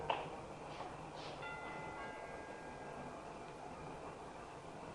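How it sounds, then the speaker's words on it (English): A doorbell chime rings at a house above the Sunset Strip, sounding as a few faint, sustained tones over a steady hiss of background noise, with no talking. "We rang the bell and waited."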